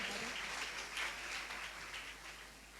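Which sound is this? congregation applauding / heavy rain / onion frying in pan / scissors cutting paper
congregation applauding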